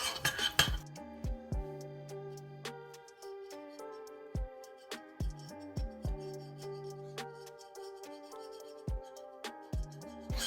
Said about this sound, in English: And then I'm going to go ahead and stir it until it's fully incorporated.